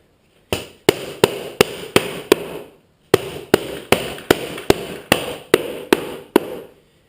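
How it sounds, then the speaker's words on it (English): Two runs of sharp, evenly spaced hammer blows driving a lid onto a 5-gallon bucket, about six and then ten strikes, loud and close, with a short pause between the sets. "For right now, I'm just going to hammer this on."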